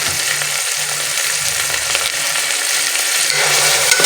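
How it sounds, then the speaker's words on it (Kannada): Carrot, capsicum and tomato fry in a hot pan for a vegetable sagu, a steady bright sizzle with occasional stirring scrapes, close and without talk. "ಇದನ್ನೆಲ್ಲ ಚೆನ್ನಾಗಿ ಫ್ರೈ ಮಾಡ್ಕೊಳ್ಳಿ"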